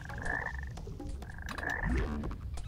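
Toad croaking in the video game Snowflake's Chance: two drawn-out, buzzy croaks about a second apart, set against a low rumbling game ambience, no voices.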